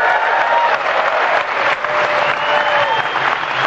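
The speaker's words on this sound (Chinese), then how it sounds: "立刻受到台下观众全体起立鼓掌" A seated audience rises to a standing ovation for Steve Jobs as he walks on stage at an Apple launch event, producing loud, dense, continuous applause that fills the room, broad and steady with no pauses, and crowd noise mixed in.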